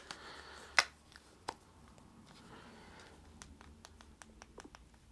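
Side buttons on a Pixel 7a phone fitted with the official Google case are pressed in a series of quiet, crisp clicks, with a couple of sharper taps early on and then quick, irregular presses.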